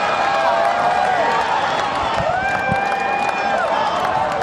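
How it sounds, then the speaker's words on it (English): Golf gallery crowd at a women's professional tournament final round reacting to an approach shot, a continuous loud murmur of cheering and excited voices with scattered claps, mixed with whistling tones. "Listen to this from the crowd."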